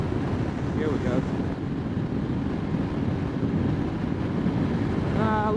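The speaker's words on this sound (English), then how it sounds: "I'm trying to catch some side wind from the side to see what the wind's gonna sound like in the helmet." Side wind buffeting a Scorpion EXO-AT950 helmet on a moving motorcycle, a loud continuous low roar with a steady rushing texture and no talk.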